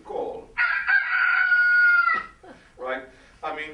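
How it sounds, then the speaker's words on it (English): A rooster crows loud and close, a long sustained cock-a-doodle-doo call, followed by a few shorter clucking notes from the bird. "When a rooster crows"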